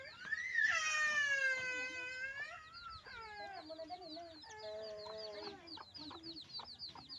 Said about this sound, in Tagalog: daming sisiw o oh, apat